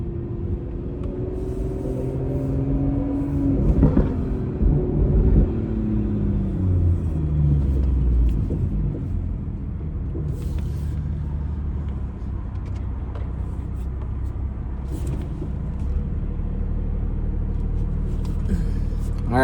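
BMW F30 340i with a B58 engine and ARM mid pipe exhaust, a steady low rumble that swells with a rev partway through, then settles into a continuous drone.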